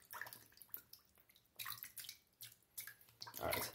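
Water drips and splashes from a wet shaving brush being shaken off before a lather test, giving a series of irregular close splattery bursts with small droplet sounds between them, growing louder toward the end.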